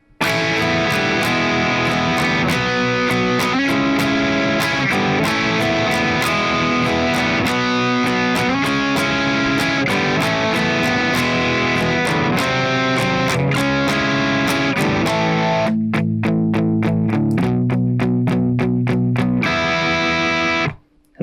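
Distorted electric guitar plays a song's chorus, loud driven strummed chords in a steady rock rhythm, running continuously with a brief break of single ringing notes near the end.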